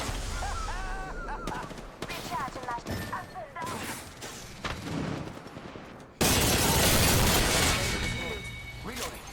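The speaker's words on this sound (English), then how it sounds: "Getting shot at" Dense bursts of video game gunfire erupt in the second half, loud and sustained, after stretches of talk and faint in-game sounds.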